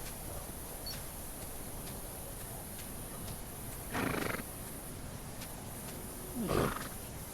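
A horse in a video game neighs twice, short bright whinnies standing out over a faint steady hiss, with a quiet background otherwise.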